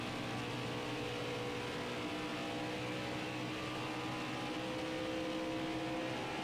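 Steady, loud race car engine drone from the NASCAR Heat 5 video game, a continuous high whine at speed during a lap, with no talk over it.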